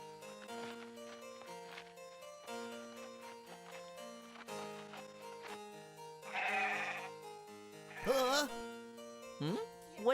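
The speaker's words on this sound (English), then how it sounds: "What's the matter with the sheep? They're uneasy" Uneasy sheep bleat over a bed of sustained cartoon-style background music, with a few wavering cries standing out louder near the end.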